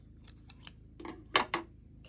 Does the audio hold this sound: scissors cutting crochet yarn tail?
yes